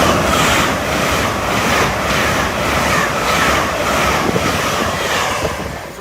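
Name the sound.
train at a railway station platform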